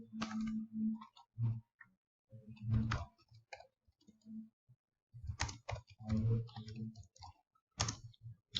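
Quick bursts of key clicks from a computer keyboard as a campaign name is entered, crisp and close with short pauses between runs of keystrokes and no voices.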